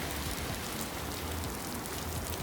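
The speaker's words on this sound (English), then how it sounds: "oh my god, it's raining so much" Heavy rain pours steadily, a dense continuous hiss of drops hitting surfaces with no pauses.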